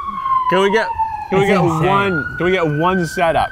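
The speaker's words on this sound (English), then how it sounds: "Why is this siren happening?" A police car siren wails in rising and falling sweeps during a fast food taco tasting, loud and close, with people talking over it.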